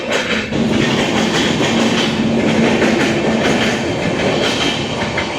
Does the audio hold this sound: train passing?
yes